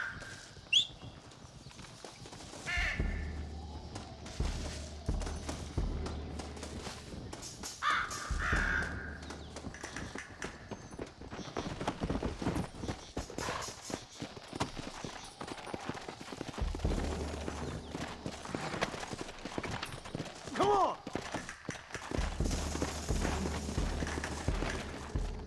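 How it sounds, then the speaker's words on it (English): Horses clip-clop in Red Dead Redemption, their hooves thudding in a steady rhythm through much of the scene, mixed with game ambience and occasional crow caws. "Looks like Carlos left us some horses."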